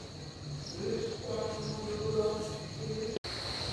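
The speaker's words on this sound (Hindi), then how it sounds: "और मेरे पीछे कितनी मेढकों की आवाज़ आ रही है" Frogs croak in a forest at evening beside the flooded Ganga during the monsoon, forming a faint, steady, overlapping chorus with insect buzzing throughout and a brief dropout near the end.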